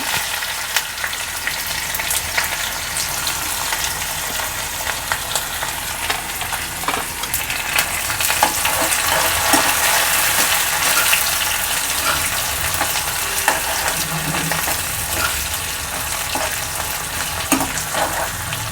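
Onion frying with dried red chili and curry leaves in a hot pan for Maharashtrian dal amti, a continuous close sizzle with occasional stirring scrapes and no talk.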